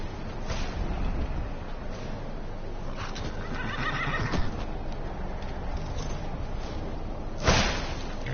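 A horse in the game Skyrim whinnies amid steady clopping hooves and ambient game noise, with a louder neigh near the end; no one speaks.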